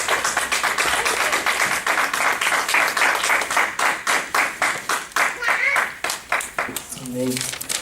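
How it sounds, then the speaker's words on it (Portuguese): Church congregation clapping together in rhythm, a dense run of sharp hand claps for several seconds, with a voice speaking over the end. "palmas pro Lucas"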